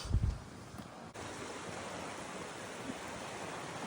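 Steady broad roar of ocean surf below a bluff edge on Kalifornsky Beach, Alaska, with a brief thump at the start, then a continuous wash of breaking water.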